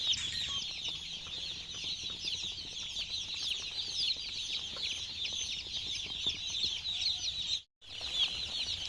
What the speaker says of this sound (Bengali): দেখো কীরকম খুঁটি খুঁটি খাচ্ছে ছোটো ছোটো বাচ্চা